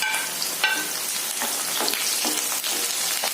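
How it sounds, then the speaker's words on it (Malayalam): Ginger pieces frying in hot oil for a dates pickle, a steady close sizzle with bursts of crackle and popping as they hit the pan, no voices. "ഓയില് ചൂടായിട്ടുണ്ട്. അതിലോട്ട് നമുക്ക് അതേ ഇഞ്ചി ഇട്ട് കൊടുക്കാം."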